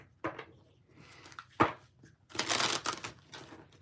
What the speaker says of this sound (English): One more shuffle and then we gotta start.